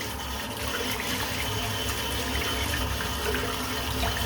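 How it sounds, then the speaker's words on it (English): Tap water runs steadily over a shaving brush being rinsed, a continuous close splashing rush that holds for several seconds without any voices. "Just going to rinse the brush out as well."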